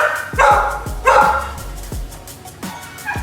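Dogs bark several times close by, sharp woofs in an uneven rhythm with short pauses between them, in a garage during a 2011 BMW 335i coolant tank replacement.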